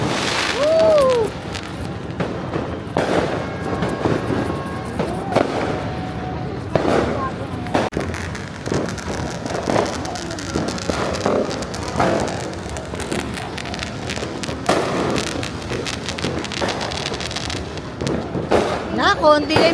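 Scattered New Year's firework bangs and crackles pop at irregular intervals outdoors in light drizzle, mixed with people talking and calling out nearby.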